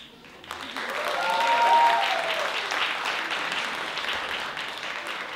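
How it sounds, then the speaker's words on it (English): Loud applause from a stand-up comedy concert audience in Seattle greets a comedian, building for a second or two and then holding steady as sustained clapping. "Please welcome our first comedian, Ravi, with a loud laugh. I mean, loud applause"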